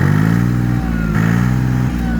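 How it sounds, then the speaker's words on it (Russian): A Japanese Iseki TA-230 four-wheel-drive mini tractor's engine runs close by and loud, holding a steady low harmonic drone with slight shifts in pitch as it revs, alone with no voices. "Запуск, все четко. Трактор отлично набирает обороты, держит их, работает ровно и без"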